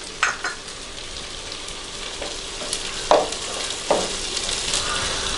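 Chicken pieces, about half cooked, sizzle and fry steadily in a pan as fennel seeds go in, with a few sharper stirring bursts and scrapes breaking through the constant hiss, no voices.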